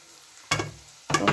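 Chopped tomatoes hit hot oil in a pan while cooking Bengali egg pulao, giving two bursts of loud sizzling and stirring that break the near-quiet.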